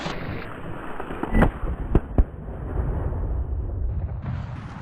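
A rifle fired at a wild boar on a driven hunt in the woods: a sharp report stands out against steady outdoor noise, followed by a couple of fainter bangs, with no talking.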